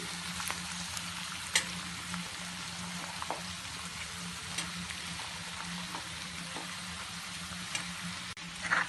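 Capsicum pieces dropped into a pan of potato curry sizzle steadily in hot oil, a soft continuous frying hiss with occasional pops and stirring clinks throughout.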